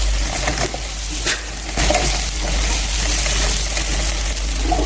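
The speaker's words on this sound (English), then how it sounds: "Add some salt, add some curry and stir properly. Saute this for a while as well." Seasoning cube, salt and curry powder are sautéed in a pan for a fish bread roll filling, giving a steady close sizzle with scraping stirs and a few sharper clinks.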